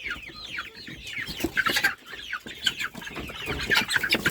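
Farmyard chickens cluck and squawk close by in agitated, overlapping bursts while a rooster is handled, with rustling movement between the calls.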